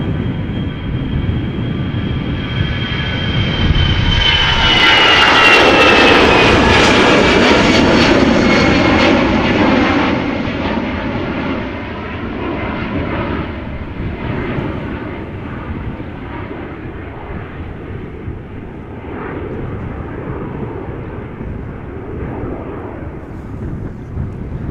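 A 15-year-old airliner taxis at Amsterdam Schiphol Airport, its jet engines building into a loud, whining roar that peaks close by, then settles into a steady rumble as it moves off.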